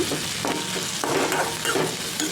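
Curry leaves hiss and sizzle as they hit onion and tomato frying in a pan for a bitter gourd dish, with steady crackle and a few stirring scrapes close by, no talking.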